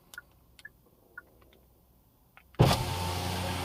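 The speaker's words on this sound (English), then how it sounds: "if you hold down the unlock button on your key fob, the windows will open" A 2024 Hyundai Kona N-Line's power windows start lowering after a key fob unlock button is held: a few quiet clicks and ticks, then a sudden, steady electric motor whir that carries on nearby until the end.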